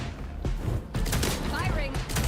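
Gunfire in the video game Vampire Bloodlines 2, with bursts of shots and thuds in a busy mix while game voices and a player talk over the action.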